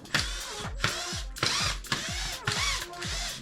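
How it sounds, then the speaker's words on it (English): Screws are driven out of a Pioneer DJ XDJ-XZ controller in five close, whirring bursts, each ending with a falling motor tone as it winds down between pauses. "So what you're gonna do is remove those screws."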